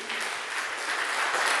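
A congregation claps steadily at a church service, a dense, even wash of many hands that holds at a fairly loud level and swells slightly toward the end, with no voices over it.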